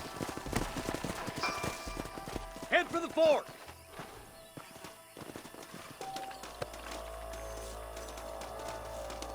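Horse hooves clop along under a man's speech in Red Dead Redemption, with a brief whinny-like burst partway through and steady outdoor ambience continuing after.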